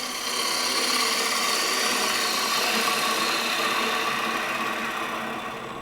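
A gouge cuts spinning wood on a lathe, making a steady, close, raspy scraping hiss that holds evenly for several seconds and fades slightly at the end, with no talking.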